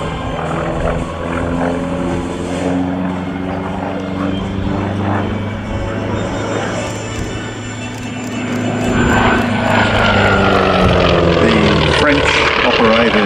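A T-28 Trojan propeller aircraft roars past with a steady, droning engine and airscrew note that swells louder near the end, close and dominant, with voices and crowd sounds faintly underneath.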